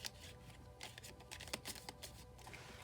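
A deck of tarot cards is shuffled up close, a soft, steady run of riffling and flicking card noise throughout with no speech.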